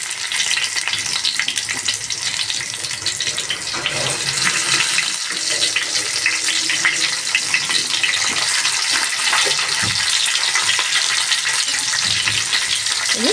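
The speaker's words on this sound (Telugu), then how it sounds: "ఇది కొద్దిగా ఆయిల్లో ఫ్రై కావాలండి." Onions and tomatoes fry in hot oil for a mint chutney, giving a loud, constant, close sizzle and crackle that runs throughout, with occasional stirring scrapes.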